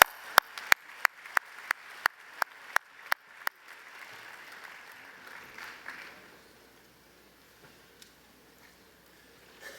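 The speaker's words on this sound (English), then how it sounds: "Let's give them another round of applause." A short burst of sparse applause at a Morehouse College commencement marking the 150th anniversary, with about ten distinct, sharp claps over the first few seconds before fading into quiet room tone.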